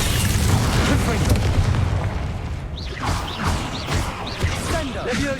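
Fire spell explosions in the Hogwarts Legacy video game, a heavy booming blast with crashing debris up front followed by further thuds, magical whooshes and scattered combat effects, with game voices in the mix.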